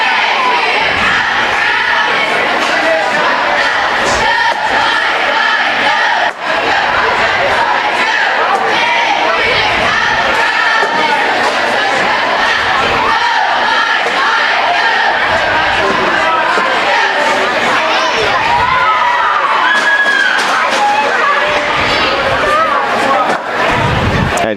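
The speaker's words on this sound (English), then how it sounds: "Middle school cheerleaders for Wilson Christian Academy coming out" Middle school cheerleaders from Wilson Christian Academy cheering at a basketball game, a loud, continuous blend of girls' shouted chants and crowd noise filling a gym, with talk mixed throughout.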